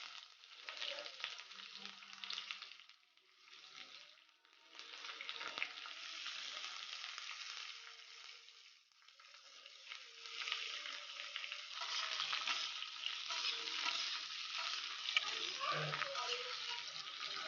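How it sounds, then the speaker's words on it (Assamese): Onion and green chilies, then pumpkin and potatoes, frying in a pan, giving a steady hissing sizzle that rises and falls as the vegetables are stirred, close and even, with no talking over it. "এতিয়া মোৰ এয়া পিঁয়াজ জলকীয়া ভজা হৈ গৈছে"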